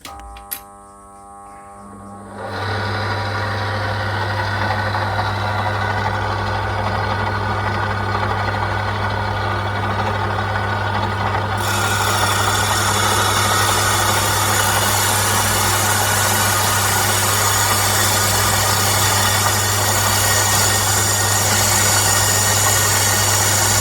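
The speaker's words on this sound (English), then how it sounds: "we're not going to record too much here because of the noise of the saw" A saw cuts into a boulder opal piece with a loud, steady drone and a constant low hum that starts after a brief quiet moment and runs without a break to the end. No one speaks.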